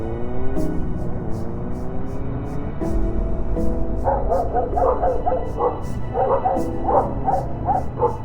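A dog barks repeatedly, the sharp yips clustering in the second half, heard over steady background music with a regular ticking beat.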